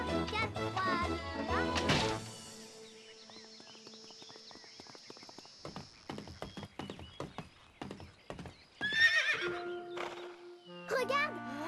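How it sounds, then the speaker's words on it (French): A horse whinnies and snorts amid clattering sounds, with someone speaking French and other knocks and thuds around it. "Regarde, c'est un cheval."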